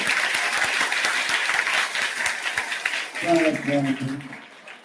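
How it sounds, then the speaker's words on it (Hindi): Group of schoolchildren clapping loudly for themselves in a classroom: dense, sustained applause runs for several seconds, then a nearby adult voice speaks as the clapping fades. "ताली बजाओ जोरदार अपने लिए।"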